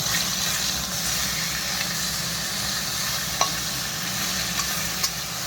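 Pieces of a large rui fish fry in an oily pan, giving a steady, close, hissing sizzle with a few light clicks of stirring or turning.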